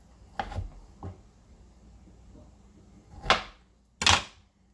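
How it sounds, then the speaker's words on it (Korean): A knife cuts tempeh into thin slices, about 0.3 cm thick, for a smoky vegan tempeh bacon. Four crisp, close cuts land on a board at uneven intervals, with two sharper strokes near the end. "자, 템페를 좀 쓸어야 돼요."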